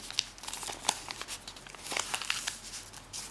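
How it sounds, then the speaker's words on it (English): Origami paper crinkling and crackling as a flap is folded over an edge along a crease for a 3D cross cube, close and fairly quiet, with small irregular crisp snaps. "we're going to take this top flap and we're going to fold it over this edge right along that crease there"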